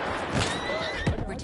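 Horse neighing in the war shooter Battlefield 1, with one close whinny rising and falling over game noise, a short thud and hoof sounds.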